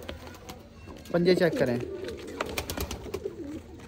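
Pigeons coo in a short burst of low throaty calls in a loft with a breeding pair close by, heard beneath a voice speaking throughout.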